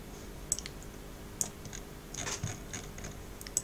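Sharp, quiet mouse clicks come singly and in small clusters at a computer, with faint scratchy handling between them and no talk.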